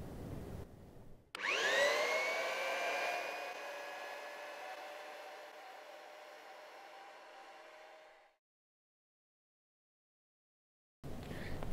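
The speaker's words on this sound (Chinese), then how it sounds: "启动主机。" A ground screw installation machine's main unit starts with an abrupt thump and spins up to a steady motor whine with a whirring roar, running loud and alone for several seconds before cutting off to silence.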